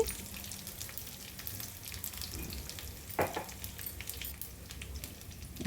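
Okra frying in oil in a pan as turmeric and salt are mixed in, a soft continuous sizzle with light stirring scrapes, close and fairly quiet.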